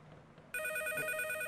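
A telephone starts ringing abruptly in a sitcom home scene, a bright electronic ring that holds steady and loud after a quiet moment.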